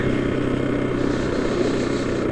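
A motorcycle on a street in Cyprus rumbles past in a steady, close engine drone with a low, buzzing tone that holds even throughout the short stretch, with no voices.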